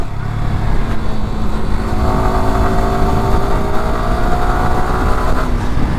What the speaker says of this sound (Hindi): ये देखिए डाउन शिफ्ट किया मैंने